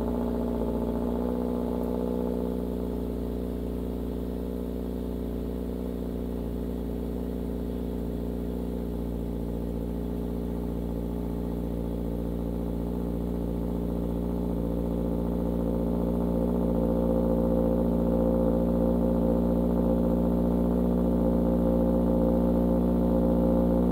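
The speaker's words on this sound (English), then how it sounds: "So here's the cold start." Subaru Crosstrek with a Borla axle-back exhaust running through a cold start, its engine holding a steady, fairly loud idle for the whole stretch with a deep even drone that swells slightly toward the end, no talking.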